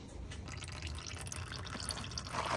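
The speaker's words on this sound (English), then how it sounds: "right now I am draining the transmission" Transmission fluid draining from an opened drain plug under a Nissan S15 Silvia Spec R, a steady faint trickle and patter of liquid that continues throughout without a break.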